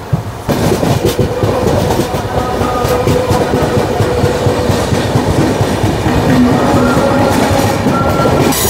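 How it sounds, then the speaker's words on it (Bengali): The Tamralipta Express, running from Digha to Howrah after leaving Mecheda station, rolls along the rails with a loud, steady rumble and rhythmic clickety-clack of wheels over joints, with no voices. "ট্রেন ছেড়ে দিল মেচেদা স্টেশন থেকে"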